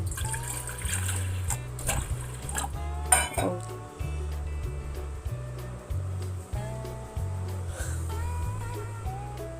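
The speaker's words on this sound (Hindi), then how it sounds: "डालते हैं पहले पानी।" Water pours into a pot for making tea, running and trickling steadily over a rhythmic low machine hum, with occasional clinks of metal dishes.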